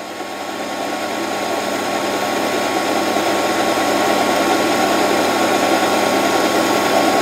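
A mini lathe runs under stepper-motor power feed at its lowest speed, giving a steady mechanical whir and hum with a faint tonal whine that slowly builds in loudness, close by and continuous, with no voices.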